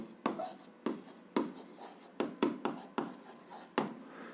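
A pen or pencil writes an answer to a seventh-grade algebra exercise by hand, in a steady series of about ten short scratchy strokes spaced roughly half a second apart, close and alone with no talking.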